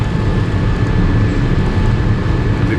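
Airliner taking off under full thrust: a steady, loud, broad jet roar with deep low-end rumble, sustained without break.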